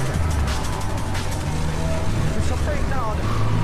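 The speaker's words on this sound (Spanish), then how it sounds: "manejar en este coche está feito" A car drives in the video game GTA III, its engine a steady low drone mixed with game sounds, with talk over it.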